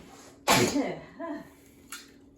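A single sharp sneeze bursts out up close, followed by a brief murmured voice and a soft breathy sound.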